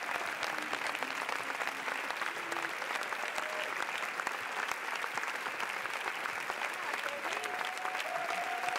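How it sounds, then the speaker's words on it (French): A theatre audience at Cannes claps continuously and densely, a steady roar of applause with faint crowd voices mixed in. "Beaucoup d'applaudissements avant même la projection."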